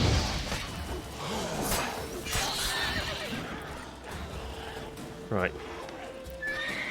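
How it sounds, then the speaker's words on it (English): A horse in The Witcher 3 lets out a loud whinny amid hoofbeats and combat swooshes and thuds, with people talking over the scene. "Don't kill the horsey."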